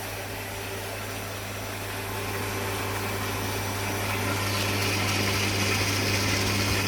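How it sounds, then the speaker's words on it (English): A heat gun and cooling fan run together on a bread-maker coffee roaster roasting a chaffy Chinese bean, giving a steady, dense whooshing drone with a constant low hum that swells slightly louder toward the end. "that's what the fan is for, and also to stop the heat gun from overheating"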